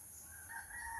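A rooster crows once in rural Bangladesh early in the morning, a drawn-out rising call at moderate distance over a quiet background.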